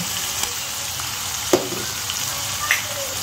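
Steady sizzling of ginger-garlic paste frying with onions in a pan, with a few faint scrapes of stirring on top.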